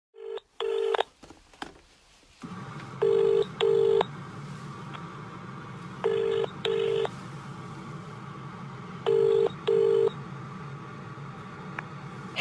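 Telephone keypad tones dialed in short paired bursts, spaced several seconds apart over a steady line hum, ahead of a voice call to IT support; no talking.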